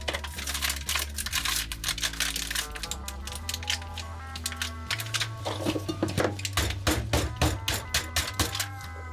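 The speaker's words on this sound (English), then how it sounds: "Hammer it down." Repeated sharp metallic blows from an old carpenter's hammer pounding down a stainless steel foil wrap at a knifemaking forge, loud and close in a steady rapid rhythm over a humming background, with no talking.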